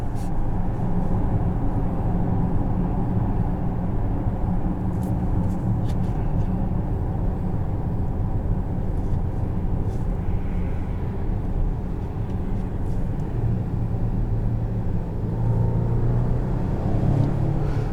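A 2022 Volvo XC90 T6 Momentum with its turbocharged engine under way, a steady low cabin drone and road rumble that holds evenly throughout, heard from inside the car with no voices.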